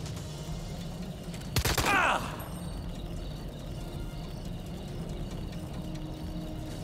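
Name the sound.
gunfire in the video game Jagged Alliance: Rage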